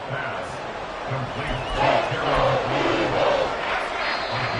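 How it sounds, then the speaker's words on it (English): A football stadium crowd roars during a close fourth quarter to force a false start, a sustained, loud wall of voices that swells in the middle and stays continuous throughout. "This crowd trying to force a false start here."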